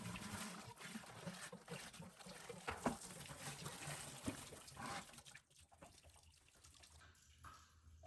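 Water runs back out of a house pipe into a bucket while a whole-house water filtration system is being installed, a faint, steady trickling and splashing that thins out toward the end.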